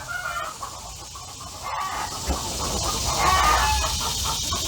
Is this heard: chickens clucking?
yes